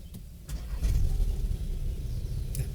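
A 2021 Audi Q3 Sportback 2.0 TFSI Quattro starts up, its starter crank catching into a steady mid-pitched engine idle that holds close and fairly loud for the rest of the short stretch.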